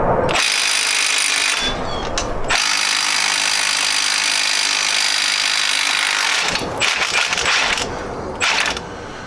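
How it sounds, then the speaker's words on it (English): An impact wrench hammers at a rusty, tight front axle hub nut on a Jeep XJ. It runs in loud, sustained rattling bursts: a short run, a long run of several seconds, then a few choppy shorter bursts near the end. "We're hoping that we can get it out with this impact"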